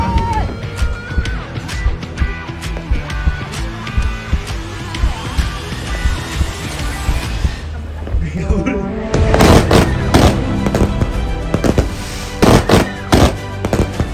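Rapid bursts of fireworks crackle and boom, loud and close, with dense popping and sharp bangs intensifying toward the end.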